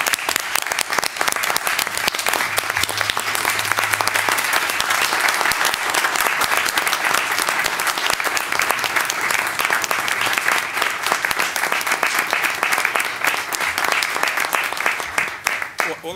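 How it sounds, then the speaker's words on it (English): Sustained applause from a transit board meeting audience, steady dense clapping filling the room for about sixteen seconds with a faint voice briefly audible underneath. "I actually just want to stand up and give him a round of applause."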